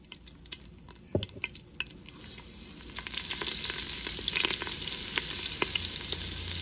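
A second batch of chicken frying in oil and butter in a Ninja Foodi, a few clicks and taps, then a crackling sizzle that swells and holds steady up close.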